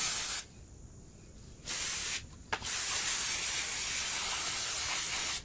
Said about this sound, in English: then I'll start spraying away the deposits.